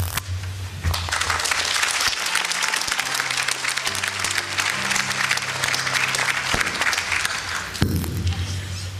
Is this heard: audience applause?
yes